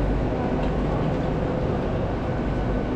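Inside a packed passenger train in the United Kingdom, a constant low rumble and roar of the carriage in motion fills the space, steady and dense from start to finish.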